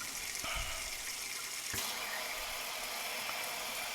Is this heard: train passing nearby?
no